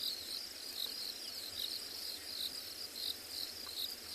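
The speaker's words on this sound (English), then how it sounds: "There's the usual kind of chirping of crickets" Crickets chirp in a steady, pulsing high trill through a quiet South African morning safari setting, faint and continuous with no voices.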